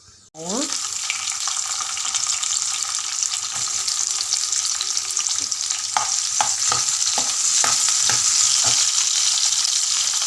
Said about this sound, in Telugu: ఇప్పుడు అదే ఆయిల్లో కొంచెం జీలకర్ర వేసుకోవాలి